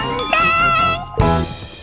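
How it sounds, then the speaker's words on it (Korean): A bright ding-dong-dang chime marks a correct answer in a Korean children's kindergarten program, ringing out as clear tuneful tones with a second struck note near the end. "딩동댕"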